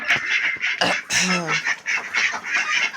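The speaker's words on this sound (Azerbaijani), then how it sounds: "Ördəklərimiz də Pekinlərdir." Pekin ducks quack repeatedly at close range, loud nasal calls overlapping in quick bursts, with one longer drawn-out call in the middle.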